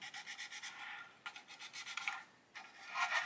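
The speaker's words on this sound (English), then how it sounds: "take a sanding stick and just remove some plastic from the top of them" Quiet rhythmic rasping of a sanding stick rubbing plastic model parts on a 1/35 scale tank kit, several back-and-forth passes with brief pauses between, close up and soft.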